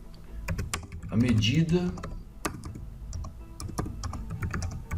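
Rapid keystrokes on a computer keyboard while creating a text frame in Photoshop, clicking in quick irregular bursts close to the microphone, with someone speaking Portuguese over the typing.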